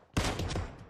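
A single sharp sniper rifle shot in a sniper-only team deathmatch game, one loud crack with a short decaying tail.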